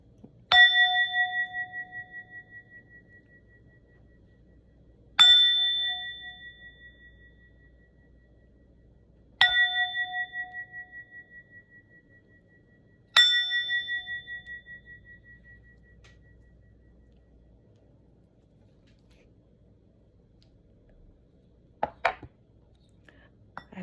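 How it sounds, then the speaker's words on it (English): A bell is struck four times at slow, even intervals about four seconds apart, each clear ring decaying slowly into silence, followed by a few faint knocks near the end. "this is a bell of incitement."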